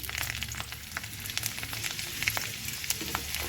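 Garlic frying in a pan of hot oil after peanuts were roasted, while cooking red amaranth greens, a steady close sizzle with crackling pops and occasional stirring, no talking.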